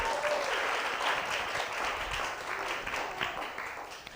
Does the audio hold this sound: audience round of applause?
yes